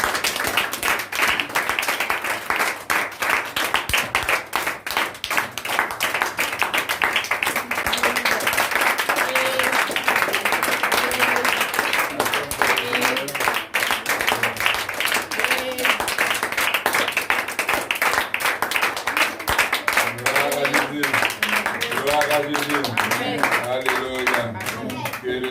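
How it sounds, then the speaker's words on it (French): A church congregation claps and cheers in praise, a dense, steady wall of applause that runs the whole time, with voices and a tonal musical or sung line rising through it toward the end. "acclamer fort le Seigneur."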